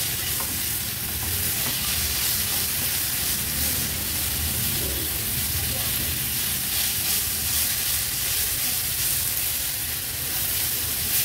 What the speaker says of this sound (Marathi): व्यवस्थित या मसाल्यांमध्ये मिक्स करून घेऊया